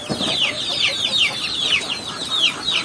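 Young chicks and broiler chicks on a farm cheep in rapid, repeated high peeps, close and fairly loud, with a few soft clucks mixed in.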